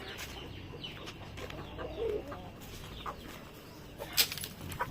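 Native chickens pecking at cracked corn give faint, scattered clucks and short calls, with a sharper burst of calls near the end over quiet background noise.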